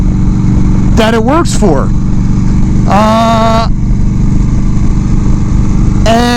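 A 1996 Harley-Davidson Evo Low Rider with an 80 cubic inch engine idling, a loud steady rumble running nonstop beneath someone talking.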